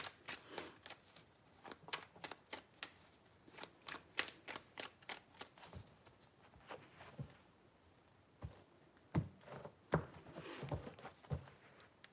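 Tarot cards shuffled by hand in three rounds, a quiet run of crisp riffling slaps and soft flicks in close, dry bursts with brief pauses between them.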